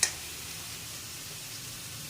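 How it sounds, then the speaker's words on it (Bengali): Tomatoes go into a hot pan of vegetable curry with potatoes, aubergine and lentil dumplings, giving a sharp initial hit followed by a steady, even sizzle. "এখন টমেটোগুলো দিয়ে দিব।"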